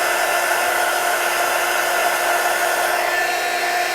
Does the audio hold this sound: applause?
no